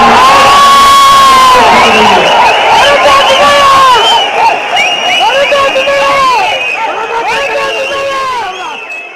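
A large crowd at a PMK party general council erupts in loud, sustained cheering, whooping and shouting, with clapping in a dense roar that eases slightly toward the end.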